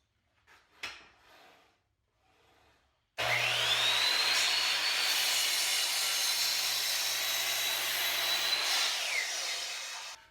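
A power saw cuts a notch into wood for an IKEA kitchen cabinet install, starting after a few light knocks and then running as a loud, steady whine for about five seconds before winding down.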